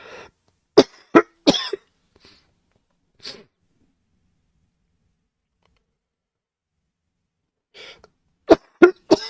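Several sharp coughs, a quick cluster of three followed by a faint one, a long quiet pause, then another burst of three, close up.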